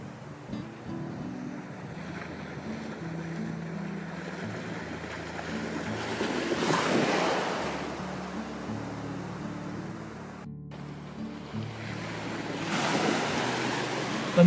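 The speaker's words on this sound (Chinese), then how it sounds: "海滩很干净，海水淡蓝色，浪花翻滚的时候很美。" Sea waves rolling onto a clean sandy beach on Pingtan Island, a steady wash of surf with two slow swells building and fading, mixed with wind rumble on the microphone.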